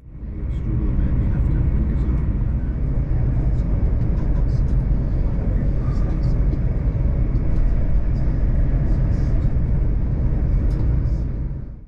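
Steady, loud low rumble of an LNER Azuma train heard from inside as it runs through outer London toward King's Cross, a continuous wheel and track roar holding throughout.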